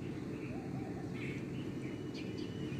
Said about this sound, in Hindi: आप वीडियो में परिंदों की चहचहाने की आवाज़ भी सुन रहे हैं।